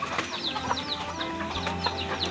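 Several chickens cluck in short, scattered bursts, a steady farmyard murmur of fowl at moderate distance with no voices over it.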